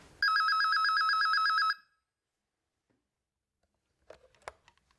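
Telephone bell ringing in one loud, rapid electronic trill lasting about a second and a half. Silence follows, then faint handling noises.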